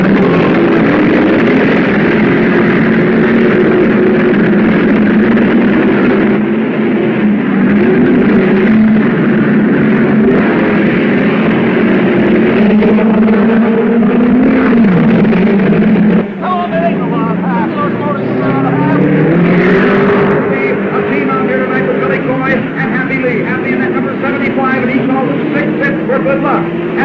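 Race cars roaring off at the start of a 40-lap main event auto race, a loud continuous engine drone with pitch shifts as cars pass, under an announcer's ongoing commentary.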